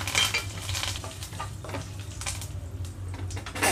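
Tempering spluttering in hot oil as two dried red chilies and a pinch of asafoetida are added, a continuous close crackle and sizzle with scattered pops and a low steady hum beneath.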